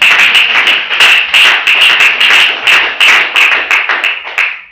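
A church congregation claps together for Jesus at a prophetic seminar, loud, close and steady rhythmic clapping with sharp repeated hits throughout.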